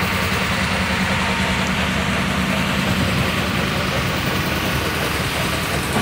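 A steam engine runs steadily at a countryside reenactment of old-time power, a continuous low mechanical rumble and chug throughout, fairly loud and unbroken, with no talk over it.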